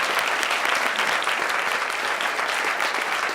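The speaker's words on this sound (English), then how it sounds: "So a big round of applause to our Nelson Center team." An audience at a university venture prize pitch night claps steadily, giving a dense, even wash of applause that holds at full strength for several seconds.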